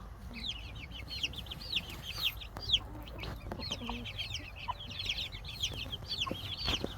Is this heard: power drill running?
no